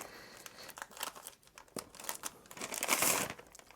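Cardboard packaging of a Brymen BM2257 EEVblog Blue Edition multimeter crinkles and tears in close, uneven bursts of handling, growing louder toward the end, with no talking.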